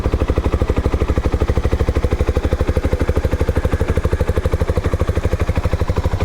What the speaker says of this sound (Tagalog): yung tunog ng makina